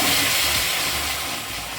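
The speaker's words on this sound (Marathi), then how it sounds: "थोडासा पाण्याचा शिंतोडा मारून घ्यायचा" A steady, loud hiss and sizzle of water sprinkled onto melting jaggery in a hot pan, continuous throughout with no talking.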